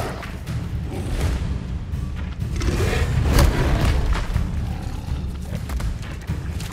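A Bombarda spell blast from Hogwarts Legacy combat lands as a deep, rumbling boom swelling midway, over a busy, loud bed of game effects and thuds.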